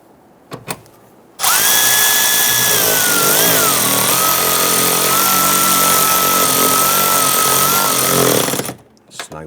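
A power tool whirs steadily and loud for about seven seconds as it tightens the upper bolt on the rear door of a 2011-2019 Ford Explorer, its pitch sagging slightly under load before it stops.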